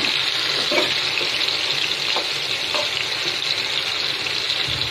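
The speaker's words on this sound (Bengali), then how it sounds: "এখন শুধু হবে ভাজা হবে। হ্যাঁ একদম ভাজা করে ফেলবো।" Food dropped into hot oil fries with a steady, even, broadband hiss, with a few faint knocks under it and no talking.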